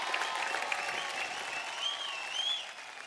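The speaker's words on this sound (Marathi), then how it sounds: "जोरदार टाळ्या होऊन जाऊ द्या राजू सरांसाठी" A studio audience at a Marathi TV show applauds steadily, a dense patter of clapping that holds for a few seconds before easing slightly at the end.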